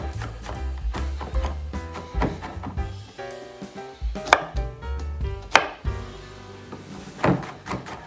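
Garlic cloves chopped on a wooden board, a close series of sharp knife knocks in an uneven rhythm, with bursts of rapid strokes and brief pauses, and faint music underneath.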